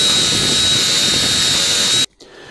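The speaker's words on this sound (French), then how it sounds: "disque à polir, pâte à polir. Et puis, c'est parti." A steady, loud whine of a rotary polishing disc with polishing paste buffing oxidized metal on a Datsun 280Z engine, with a thin high tone on top, cutting off abruptly near the end.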